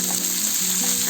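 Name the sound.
chopped onions and dry chillies frying for upma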